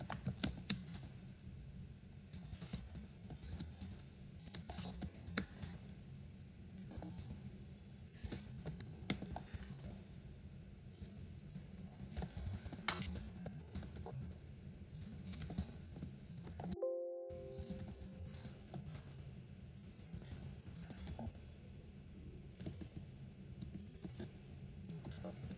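Continuous computer keyboard typing runs for nearly the whole stretch with a brief gap, steady irregular clicks at moderate level and no talk.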